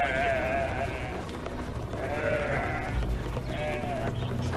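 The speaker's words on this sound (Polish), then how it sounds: "Owce zablokowały drogę." A flock of sheep blocking a road bleat loudly and repeatedly, the calls overlapping at close range while someone speaks over them.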